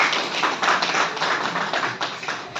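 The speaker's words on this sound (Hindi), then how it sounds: "जोरदार तालियां सब के लिए" Steady applause from an audience at a network marketing business seminar in India, a continuous wash of many hands clapping at moderate loudness throughout with slight swells.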